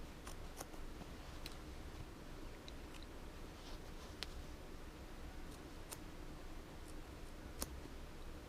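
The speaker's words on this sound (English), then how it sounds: "There's a real test of these little scissors." Small scissors snip through fabric in quiet, irregular clicks, spaced apart over a soft background hiss.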